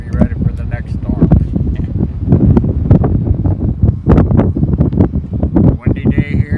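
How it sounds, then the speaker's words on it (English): On a windy day, gusts buffet the microphone with loud, continuous low rumbling and rustle, while someone talks over it throughout. "Windy day here"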